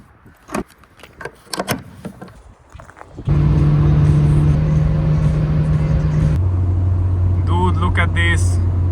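A few clicks and handling rattles come first, then a car's engine sets in as a loud, steady drone while driving on the road. Partway through, the engine tone drops and holds at a new pitch.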